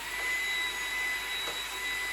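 Levoit LVDC200 cordless vacuum cleaner running with a steady, fairly faint whine and airy hiss, including a thin high motor tone, with no change in pitch.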